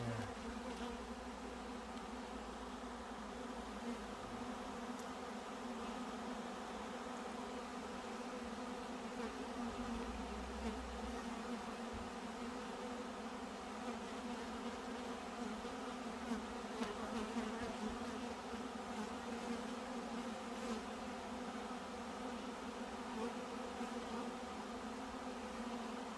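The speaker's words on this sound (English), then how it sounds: "You'll see a lot of bees starting to go ahead and do that very soon there." Honey bees buzz densely around a hive in a steady, faint but continuous drone lasting the whole stretch, with occasional individual bees passing closer.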